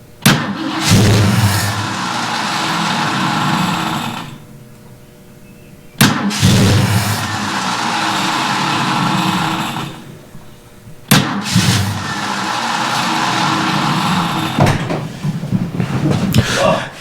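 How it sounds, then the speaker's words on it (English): A Ford Mustang with a no-start condition cranks loudly in three separate bursts of roughly four seconds each, the starter churning without the engine catching, with short pauses between attempts. "We have a Mustang with a bit of a no-start condition this morning."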